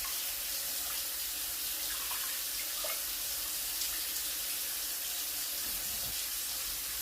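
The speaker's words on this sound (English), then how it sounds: "Then I'm going to rinse my rice." Water runs steadily from a tap into a bowl of rice, a constant close splashing hiss with faint swishing, and no voices.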